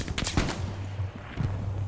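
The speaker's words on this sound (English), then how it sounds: "I'm getting shot over there by an MG." Machine gun fire in a video game, sounding as several quick bursts of gunshots with rattling echoes, moderately loud and with no talking.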